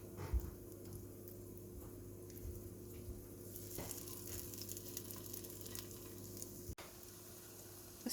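Syrniki, cottage cheese pancakes, sizzle steadily in a frying pan, a soft continuous frying hiss with a small clatter near the start and a brief knock near the end, no voices.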